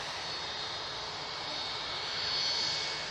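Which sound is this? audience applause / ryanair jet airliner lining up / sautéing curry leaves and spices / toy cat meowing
ryanair jet airliner lining up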